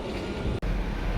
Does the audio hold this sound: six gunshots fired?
no